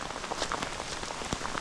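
Heavy rain from a thunderstorm on an outdoor trail run near Black Elk Peak in the Black Hills, a dense steady hiss of drops pattering close around the microphone.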